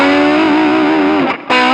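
A sustained, distorted electric guitar chord rings out loud and close through a Nux Pulse IR loader's DR112 cabinet simulation, based on a Fender Deluxe Reverb, cut off briefly before another chord is struck.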